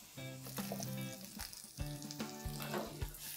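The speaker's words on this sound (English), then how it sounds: "Once this kind of stir fries on high flame for roughly around a minute" Chopped turnip and ginger stir-fry on a high flame for a turnip sabzi, sizzling steadily with a few sharp clacks of a spatula against the pan.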